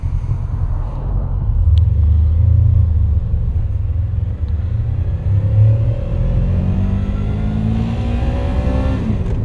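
Honda VFR800 motorcycle fitted with a snorkel intake mod, its engine rumbling steadily up close with rising revs and gear changes as it accelerates on the road, no talking.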